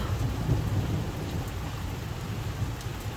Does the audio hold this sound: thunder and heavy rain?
yes